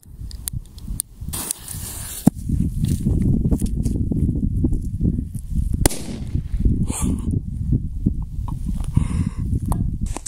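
Outdoors, firecrackers go off under a pot, with a few sharp cracks standing out against a constant rough, rumbling hiss of fizzing fuse and debris.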